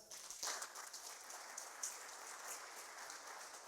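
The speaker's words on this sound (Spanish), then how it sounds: "Así es que denle un aplauso de alabanza." A church congregation gives a sustained round of applause of praise, steady many-handed clapping with a few sharper claps standing out, moderately loud and without talk.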